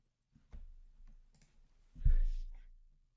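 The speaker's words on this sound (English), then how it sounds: "I'm going to click the Copilot." A computer mouse clicks on the Copilot button in Power BI: a few faint, soft clicks and then one slightly firmer click-thump, all in a quiet room.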